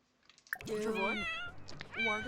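A cat meows in The Sims 4 video game, a couple of clear, close drawn-out meows alone with no talk over them.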